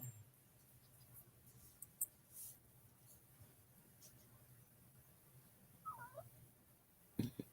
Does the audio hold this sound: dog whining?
yes